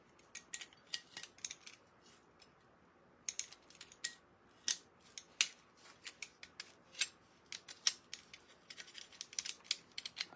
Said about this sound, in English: I just want to cut the areas I won't be using.